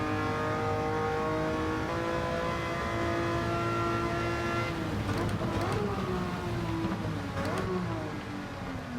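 Ferrari 330 P4 race car engine in Gran Turismo 7, a loud sustained high-revving roar with steady harmonic whine and quick downshift blips near the end, with someone talking over it.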